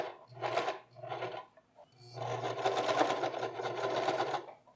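A sewing machine topstitches a seam on high-waisted pleated pants, running in two short bursts followed by a longer steady run of rapid stitching, close and clear.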